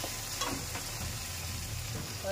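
A spice paste with sugar sizzles and fries in a pan while being stirred, a steady, soft crackle with faint scraping, heard close and alone.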